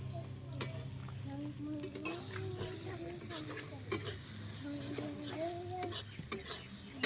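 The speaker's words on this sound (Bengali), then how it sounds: "পেঁয়াজটা হয়ে এসছে, এবার আদা রসুনটা দিয়ে একটু কষিয়ে নিয়ে আর মাংসটা দিয়ে দেবো।" Onion frying with ginger and garlic in a pan, with a soft sizzle under repeated spatula stirs and scrapes against the metal, fairly quiet, with some background music.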